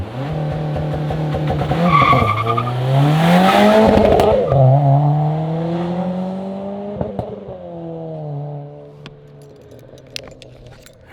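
An 8th-generation Honda Civic Si with newly installed Skunk2 Alpha headers makes a loud flyby, its engine note rising as it approaches and passes, then fading away with a dropping pitch.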